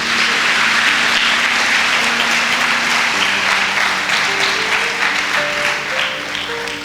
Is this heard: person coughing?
no